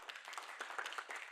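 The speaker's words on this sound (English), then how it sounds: "Round of applause for Sanan." Audience applause at an indigenous heritage conference breakout session, a short burst of dense, steady clapping at moderate level with no talk over it.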